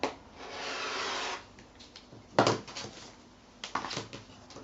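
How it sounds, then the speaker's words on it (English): Stacked quilting fabric squares are cut diagonally in half, with a steady rasping cut for about a second, then a short sharp scrape and a few scattered rustles and taps nearby. "So I'm just going to cut them in half diagonally."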